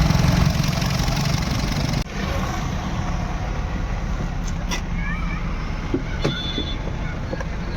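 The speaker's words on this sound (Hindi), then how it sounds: "हाफ सेल्फ में हमारी गाड़ी स्टार्ट हो रही है" A repaired Honda Amaze engine, fixed for a crank-but-no-start fault and a head gasket, idles steadily with a low continuous rumble, close and constant, with a brief dip early on and faint talk in the background.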